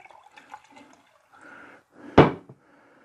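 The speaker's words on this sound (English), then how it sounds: "I'll pour that in there, put the stopper back on," Water and petrol being poured into a stoppered laboratory vessel, with soft trickling and sloshing, then a sharp, close clunk of the stopper or glass being set down, followed by a faint trickle.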